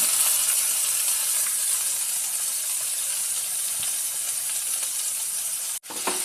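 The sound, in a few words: onion and tomato frying in a pan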